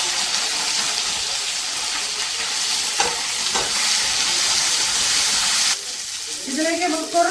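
Whole shallots sauté in a pan for a spicy festive mutton dish with a loud, even, hissing sizzle that drops away abruptly near the end, leaving a few faint clinks and light rustling.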